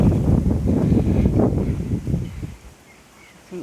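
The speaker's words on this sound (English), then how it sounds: "the wind is really, really getting up now" Strong wind gusts through a garden, roaring close against the microphone in a loud rumbling rush that swells and then fades toward quiet, with a faint rustle at the end.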